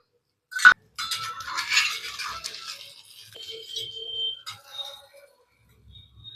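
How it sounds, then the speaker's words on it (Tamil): A lid set over a dosa pan with a sharp metallic clink, followed by a few seconds of light rattling and faint clatter, then near silence. "இப்போ கொஞ்சம் மூடி வச்சிடலாம்"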